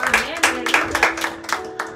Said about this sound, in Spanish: Dele palmas al Señor si está agradecido con Él